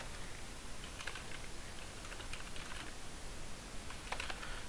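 Quick keystrokes on a computer keyboard while typing a command prompt entry, light clicking bursts scattered over a steady background hiss, no voices.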